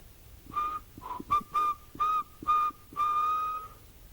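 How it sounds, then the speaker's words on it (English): Someone whistles a short tune of six clear notes, mostly short with a longer final note, fairly close in a quiet setting. "And then he heard the whistling again."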